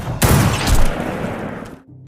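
Sniper gunfire exchanged in a World War II war film, with a loud burst of shots and booming impacts that rings out for over a second before cutting to near silence.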